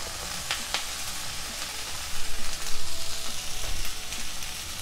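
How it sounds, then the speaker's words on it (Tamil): Oil sizzles and crackles steadily in a pan as tomatoes sauté, with a louder burst of frying midway as food is stirred, close and continuous with no talking. "இப்போ தக்காளி நல்லா வேகிற வரைக்கும் இதை வதக்கிக்கலாம்."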